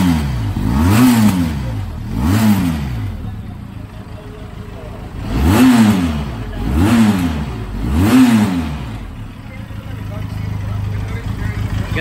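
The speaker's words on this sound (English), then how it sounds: "Ang exhaust niya nandito." A Benelli TRK 502X motorcycle engine revs repeatedly, several rising and falling bursts of exhaust roar close by, with idling between revs.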